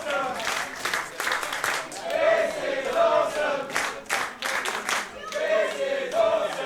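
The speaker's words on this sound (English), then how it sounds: "And this crowd chanting" A professional wrestling crowd at an ATTACK! Pro match chants in loud rhythmic bursts, with clapping between the phrases from a large, echoing audience.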